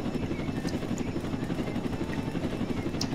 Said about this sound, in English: I like my helicopter